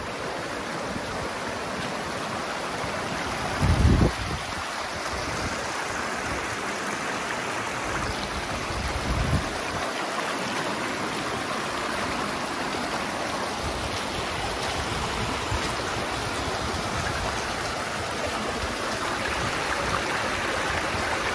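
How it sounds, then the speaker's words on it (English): Rushing water of a Grout Creek tributary tumbling over a waterfall near Big Bear Lake, a steady broadband roar heard up close, with a couple of brief thumps and no voices. "We're on top of the waterfall now."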